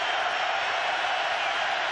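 Steady, distant roar of a football stadium crowd during the 2003 Oregon–Michigan game, a continuous wash of noise with no distinct peaks over two seconds.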